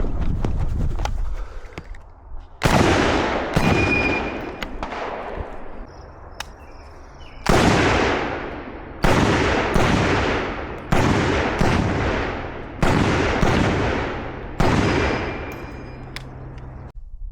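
An M1 Garand rifle fired outdoors, six or seven loud sharp shots spaced a second or two apart, each ringing out with a long echoing tail.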